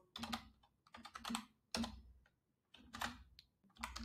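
Keystrokes on a computer keyboard as a password is entered, several quick bursts of close, crisp clicks separated by short pauses.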